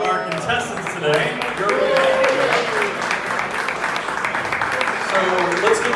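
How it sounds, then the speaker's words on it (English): Applause and cheering from a live audience greeting two contestants coming on stage at a crypto mining rig build event, steady and fairly loud throughout, with a host's voice talking over it. "applause for our contestants today"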